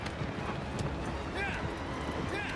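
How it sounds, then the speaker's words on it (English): A horse gallops in the video game Shadow of the Colossus, its rapid rhythmic hoofbeats running steadily under a player's excited talk. "Now the horse takes off, and it's super hard to control."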